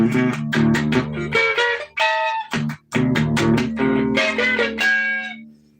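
A single electric guitar plays a short bluesy phrase in E blues, picked notes and bends, with brief pauses between bursts, clear and up close.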